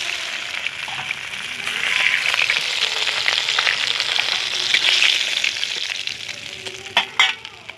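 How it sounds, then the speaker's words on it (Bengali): Potatoes sizzle steadily in hot oil in a pan while cabbage ghonto is cooked at home, a close, continuous frying hiss with a few louder crackles and stirring knocks near the end. "তো আমি এবার আলুগুলোকে একটু ভেজে নেব।"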